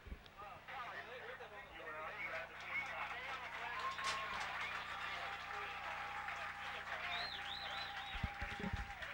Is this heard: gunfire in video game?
no